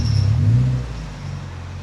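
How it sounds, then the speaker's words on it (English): A tuned car with a loud aftermarket exhaust pulls away onto the road for a test drive, its deep engine rumble strong at first and then settling to a steady drone. "as soon as it's put out to the main road, it's loud"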